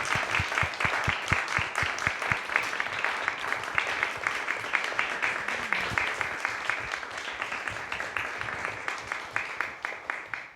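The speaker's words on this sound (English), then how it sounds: "Can we all have a round of applause for all of the students this afternoon?" Audience gives students a round of applause in a lecture hall, clearly separate claps in a brisk rhythm that thin out and fade toward the end, with a faint voice briefly underneath.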